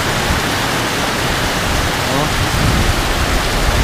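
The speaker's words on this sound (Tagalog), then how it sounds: "Bigla namang bumuhos ang ulan po dito mga kamotmot." Heavy rain suddenly pours down in Bugallon, Pangasinan, a loud, dense, unbroken hiss of downpour drumming close by.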